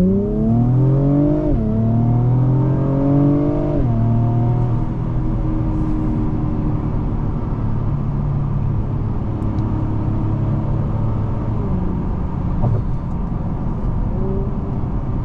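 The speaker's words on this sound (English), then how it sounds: "on some higher RPM upshifts you will hear some snaps on the upshifts from the exhaust" A 2023 Acura TLX Type S accelerating hard, its engine and exhaust climbing in pitch then dropping on quick upshifts before settling into a steady loud drone, heard from inside the cabin.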